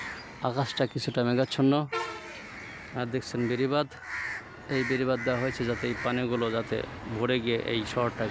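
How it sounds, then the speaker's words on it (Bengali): Crows caw from trees at dawn under a cloudy sky beside a town's flood embankment, their calls scattered and fairly distant beneath someone talking almost continuously. "গাছে গাছে কাক ডাকছে"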